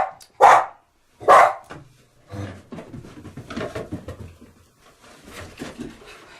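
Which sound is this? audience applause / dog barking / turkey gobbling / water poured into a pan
dog barking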